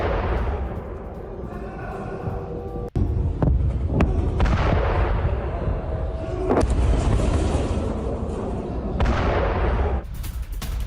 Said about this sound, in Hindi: ईरान ने बैलिस्टिक मिसाइलों से हमला किया।